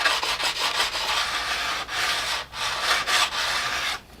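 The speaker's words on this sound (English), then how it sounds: "Rub any places it's rough, if it's not shiny." A stone or file is rubbed along the steel edges of a snowboard to clear rust and burrs, giving steady back-and-forth scraping strokes with brief pauses between passes, close and fairly loud with no talking.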